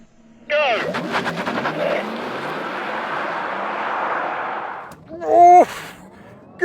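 A Porsche Taycan and a Tesla launch side by side in a drag race, a sustained broadband electric whine and tyre roar rising from half a second and holding steady, followed by a brief louder surge near the end.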